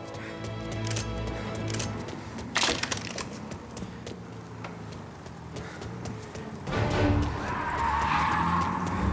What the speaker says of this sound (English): Truck's moving.